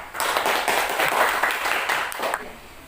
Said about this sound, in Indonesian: Kita beri tepuk tangan dulu untuk mereka.